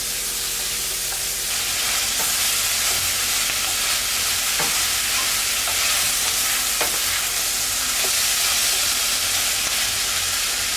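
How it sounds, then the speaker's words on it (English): Sausage and onions sauté in a hot pan with a steady sizzle and hiss, with occasional clacks of a utensil stirring through them, close up and without talk. "now that the sausage and onions are all sauteed"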